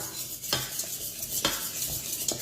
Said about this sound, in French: On mélange toujours à feu bas